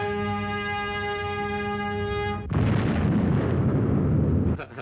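In Hitchcock's 1936 film Sabotage, a bomb goes off: a sustained droning horn-like tone cuts abruptly into a loud, roaring blast whose rumble fills the next couple of seconds before dropping away.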